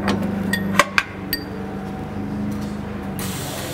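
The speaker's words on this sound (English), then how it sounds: "Unlatch the barrel." Metal latch on the barrel of an HZ-85 centrifugal barrel tumbler being released, a few sharp clanks and clinks close by over a steady machine hum, then the hum continuing alone.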